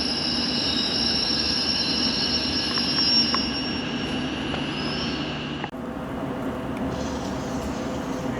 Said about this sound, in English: You got another district line train coming in.